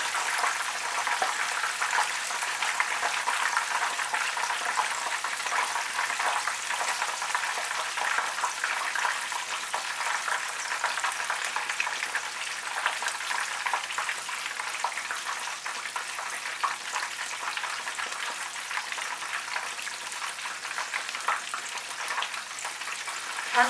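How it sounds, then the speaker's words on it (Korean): Steady, dense crackling and bubbling of a chicken cutlet deep-frying in hot oil, continuous and even throughout with no voices. "그럼 뒤집어서 다시 튀기겠습니다."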